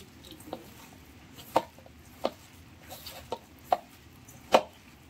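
Batter of Brahmi greens for fritters being mixed by hand in a bowl, giving a handful of soft, irregular squelching slaps and knocks against a quiet background, no talking.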